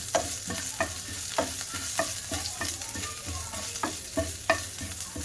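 Ajwain and chopped ginger are stirred in a pan with light, repeated scraping strokes over a soft sizzle, close and steady at a brisk rhythm, with no talking.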